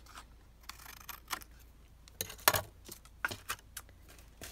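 Scissors snip triangles out of paper, sounding as a series of crisp, quiet clicks and cuts at irregular intervals, with one slightly louder snip near the middle and no talking.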